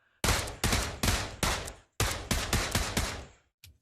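Gunfire from the Bison submachine gun in the VR shooter Pavlov: loud, close bursts of shots in two clusters of about four, sharp attacks with short decays, then one brief final shot.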